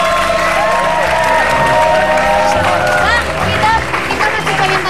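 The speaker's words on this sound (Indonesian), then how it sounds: "tepuk tangan dulu dong" A studio audience applauds and cheers in a loud, steady burst during a live Indonesian television talk show, with voices and crowd noise mixed into the clapping throughout.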